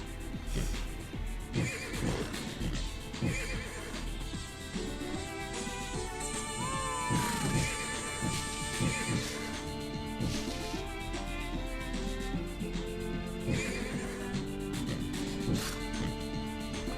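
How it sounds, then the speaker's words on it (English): Repeated horse-like whinnies and neighs from zebras in the video game Tasty Planet Forever, over a busy game soundtrack with music, a few clip-clop hoofbeats mixed in. "I like the zebras just making horse noises."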